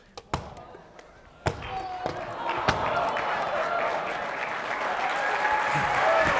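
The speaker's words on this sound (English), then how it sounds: "Do not applaud that." Audience applause at a live juggling comedy show, a few sharp claps and thuds of caught props at the start, then sustained clapping that swells steadily louder and fuller toward the end.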